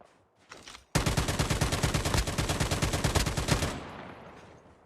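Rapid automatic gunfire in the mobile game Call of Duty Mobile: a short burst, then a loud sustained string of about twenty evenly spaced shots lasting nearly three seconds, fading into a brief tail.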